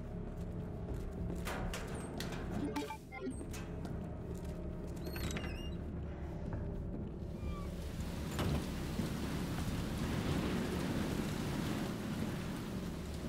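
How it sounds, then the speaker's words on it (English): Steady rain in the video game Resident Evil 2 Remake pours through windows with a broad hiss, growing heavier and louder in the second half, with some scattered drips and rumbling underneath. "I love the rain pouring through the windows."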